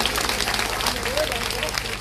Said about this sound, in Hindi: उनके लिए भी जोरदार ताली बजा दो